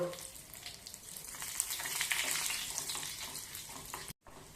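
Byadagi chillies sizzle in hot oil while a tempering for sambar is made, giving a loud, continuous frying hiss with crackling that swells in the middle and then stops abruptly near the end.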